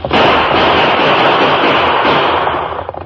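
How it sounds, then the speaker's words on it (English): Gunfire sound effect in a 1953 Lone Ranger radio western, a loud, dense crackling volley of shots filling the whole moment with no voices over it. "3 of them, Tonto. Use your guns."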